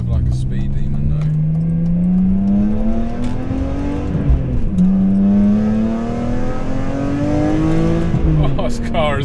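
A BMW M3 with the S54 engine pulls hard through its gears, a loud close-up intake and exhaust note rising steadily in pitch, dipping briefly at a shift, then climbing again, with a quick shift near the end.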